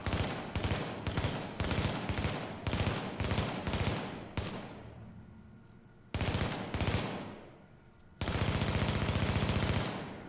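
Automatic and burst gunfire from Tom Clancy's The Division, loud and close, coming in rapid clustered volleys with brief gaps and fading tails, ending in one long sustained stream of shots.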